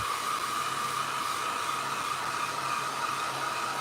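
A hair dryer blows steadily over a page painted with acrylic ink, a continuous close, loud whooshing hum with no break.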